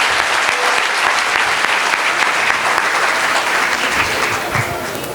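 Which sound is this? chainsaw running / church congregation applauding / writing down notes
church congregation applauding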